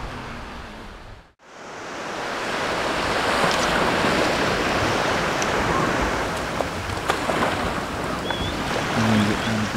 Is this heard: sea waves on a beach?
yes